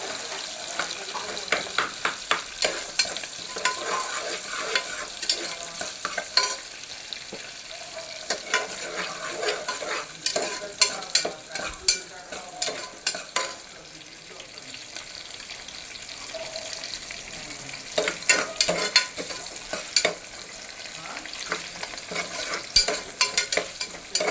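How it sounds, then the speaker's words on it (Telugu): Onions fry for vegetable biryani over a continuous sizzle, with frequent spoon scrapes and taps against the pan keeping an uneven rhythm throughout. "ఆనియన్స్ వేసాక బాగా కొంచెం ఫ్రై అవ్వాలి."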